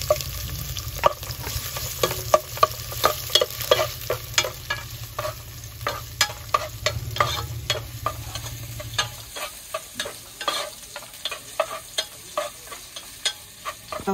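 Onions and ginger fry for a tuna curry, a steady bright sizzle in a pan broken by repeated scrapes and stirring clicks, with a low hum that cuts out partway.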